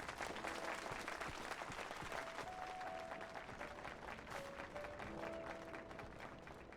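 A crowd applauds steadily, dense continuous clapping heard at a low, distant level with faint tonal sounds over it.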